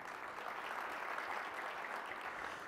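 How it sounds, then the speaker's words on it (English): A conference audience applauds at the close of a talk, a faint, even wash of many hands clapping that fills the room steadily for a few seconds with no voices over it. "So please give yourselves a good warm applause."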